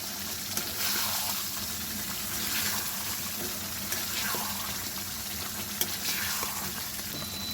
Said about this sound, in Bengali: এবার মাংসগুলো দিয়ে 15-20 মিনিট ভালো করে কষিয়ে নেব